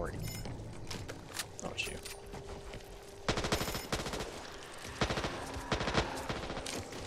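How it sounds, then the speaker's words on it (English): Back 4 Blood gunfire: shots crack out in quick bursts and rapid strings, loud and close, with a dense, busy backdrop of game noise throughout. "I shot through the thing's head in order to get it"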